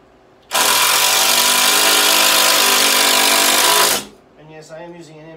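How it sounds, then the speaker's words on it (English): An impact driver drives screws while building a rodent rack, a loud, buzzing hammering burst lasting about three and a half seconds that cuts off abruptly, followed by quieter background sounds. "Yes, I am using an impact driver, so that way it doesn't slip, it just hits and keeps hitting."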